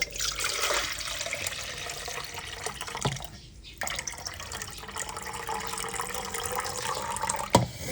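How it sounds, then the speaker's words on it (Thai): Cloudy rinse water from a second wash of rice is poured off into a sink, a steady, close splashing stream that briefly pauses and resumes with small clunks. "เราก็เทน้ำทิ้งเลยค่ะ"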